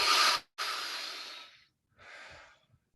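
Slow, deep breaths during a guided breathing practice, heard close as airy hisses: a sharp exhale, a long inhale, and then a softer release.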